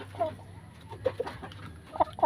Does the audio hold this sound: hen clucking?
yes